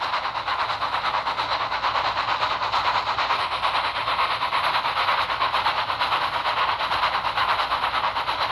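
A steam engine puffing in a Thomas the Tank Engine video game, with even, rhythmic chuffs over a continuous mechanical rumble, loud and steady throughout.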